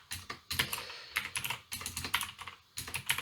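Computer keyboard typing while coding, close and moderately loud, with bursts of rapid key clicks broken by short pauses.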